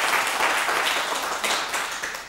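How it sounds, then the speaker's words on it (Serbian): An audience at a school debate event applauds, with dense, steady clapping filling the short stretch before it begins to thin out. "Ma dajte, idemo s jednim aplauzom."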